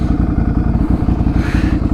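Ducati motorcycle engine idling close by, a loud, rapid, lumpy throb with steady pulsing beats over about two seconds.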